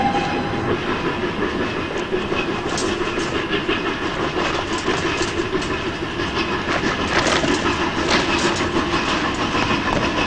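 A train rolls past on a railway in a 1970s Romanian drama, loud and continuous with steady rumble and clickety-clack of the wagons throughout, no voices over it.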